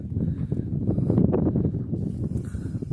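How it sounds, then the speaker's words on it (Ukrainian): Gusty side wind buffets the microphone in a constant low rumble in a garden during potato planting, strong and close, with no talking. "Трошка вітер боковий, досить неприємно весь час вітер, такий потужний"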